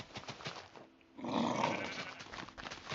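A sheep in the video game Minecraft gives one faint, drawn-out bleat in the middle, over quiet background sound.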